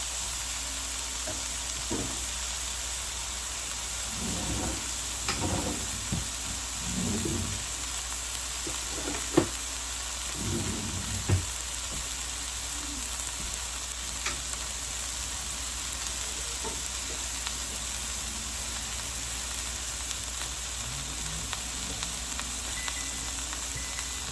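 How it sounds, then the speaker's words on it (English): Ground beef sizzles in a pan for spicy Dorito tacos, a steady close frying hiss throughout with occasional scraping stir sounds and a few sharp clinks partway through. "so we're gonna add our ground beef"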